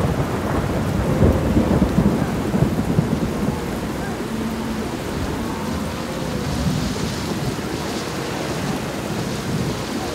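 Heavy rain pours steadily while deep thunder rumbles and rolls through, loud and enveloping, with no voices.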